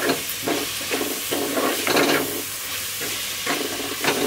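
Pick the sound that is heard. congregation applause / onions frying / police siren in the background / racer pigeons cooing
onions frying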